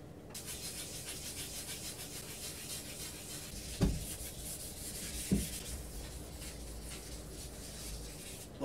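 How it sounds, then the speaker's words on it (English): A cloth rubs oil finish into the ash, purpleheart and hickory handle of a wooden bow, a steady soft scrubbing hiss with two brief knocks partway through, close and without talk. "I would take the cloth and I would just rub that in."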